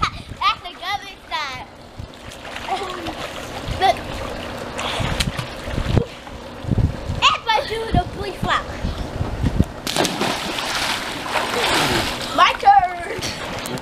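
Bursts of splashing water as a body flops into a pool, with kids chattering and shouting around it; broadband noisy splashes recur through the clip.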